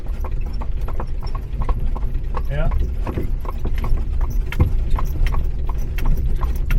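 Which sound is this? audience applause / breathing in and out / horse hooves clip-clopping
horse hooves clip-clopping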